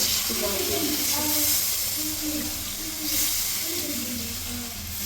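Water poured into hot fried masala with peas in a pan for a Bengali vegetarian potol posto, giving a loud, steady hiss of steam that runs through the whole stretch, with faint background murmurs.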